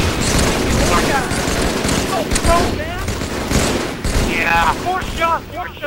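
Video game gunfire crackles in dense overlapping volleys, loud and continuous, with excited voices talking over the shooting.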